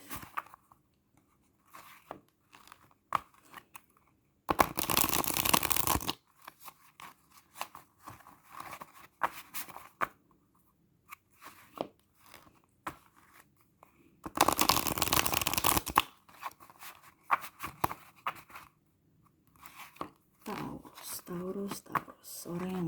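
Tarot cards being shuffled in two loud bursts of riffling, each lasting over a second, separated by quieter handling noises and a voice speaking between them.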